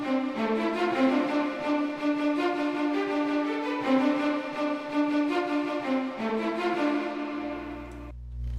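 A high string embellishment sting, a little add-on layer for a Dragon Ball Z Piccolo-themed transition remix, plays alone and fairly loud as a sustained, layered phrase with shifting notes, then fades into a low held tone near the end.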